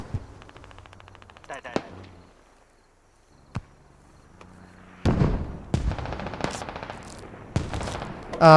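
Machine-gun fire in the military shooter Squad: quiet distant shots early, a few sharp isolated cracks, then loud dense close bursts from about five seconds on, with a final loud burst at the end.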